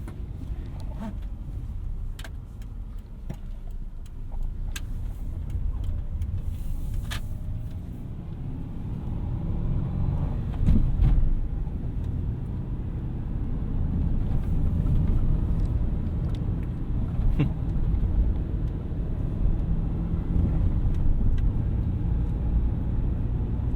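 A 2005 Subaru Forester 2.5XS with a manual gearbox drives along, its engine and road noise rumbling steadily inside the cabin and rising and falling slightly, with occasional small clicks and knocks.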